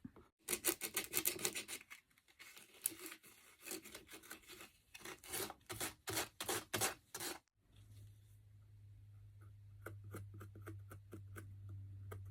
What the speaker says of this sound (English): now I got to clean all the extra gunk out of here